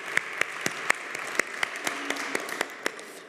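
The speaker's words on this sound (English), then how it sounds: "Let's applaud the innovators once more." Rhythmic, evenly spaced sharp claps ring out at an education innovation summit in Helsinki, sounding like a thin audience clapping along in time, the individual hand strikes distinct above a faint room background.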